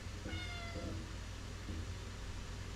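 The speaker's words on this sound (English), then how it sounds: "listen to my cat in the background" A domestic cat meows a few times in the background indoors, its short tonal calls rising faintly over a steady low hum, with no talking.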